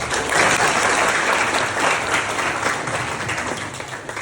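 An audience claps in a campus hall during a regional head's visit, a dense, steady burst of applause that swells at the start and carries on throughout.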